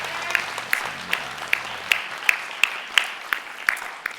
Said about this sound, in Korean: 우리 모두가 마음을 다해서 환대하며 한번 박수로 환영할까요?